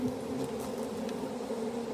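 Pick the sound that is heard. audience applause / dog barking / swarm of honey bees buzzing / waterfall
swarm of honey bees buzzing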